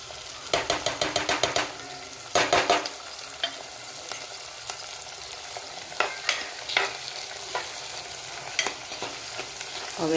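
Lilva beans fry in a pan for a Gujarati winter dish, with short bursts of rhythmic scraping as they are stirred over a continuous soft sizzle, close by and without speech.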